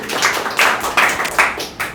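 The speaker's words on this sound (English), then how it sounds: "So big applause for Dhamdeep." Audience clapping for a participant at an academy activity session: a handful of hands clap close and fairly loud, in uneven bursts that swell and dip over two seconds with no talking.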